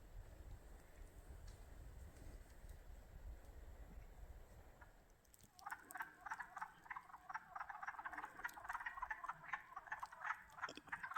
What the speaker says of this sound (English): I came over here because I thought those were ducks, but they're frogs.